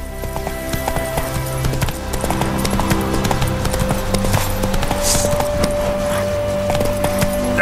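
A horse's hooves clip-clop at a steady trot in The Witcher 3, with jangling tack and a faint whinny over a game soundtrack.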